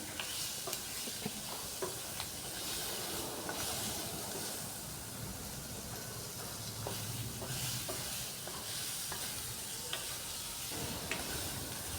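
Potatoes, onions and tomatoes are sautéed with spices in a pan, making a soft, steady sizzle with faint stirring scrapes throughout and no voices.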